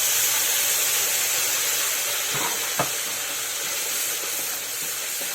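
Spice paste for a pabda fish curry fries in hot oil, giving a steady, close, broadband sizzle with a couple of brief stirring clinks partway through.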